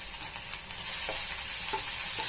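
Chopped onion goes into a pan already hot with garlic and ginger for a masala potato dish and bursts into a loud, steady sizzle that jumps up partway through, with faint stirring taps underneath.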